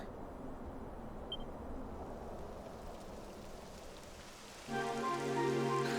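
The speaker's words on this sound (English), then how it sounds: "It would have to go and start raining, wouldn't it?" Soft, continuous patter of rain in Dragon Quest 11, faint and even, joined near the end by a louder layered electronic tone.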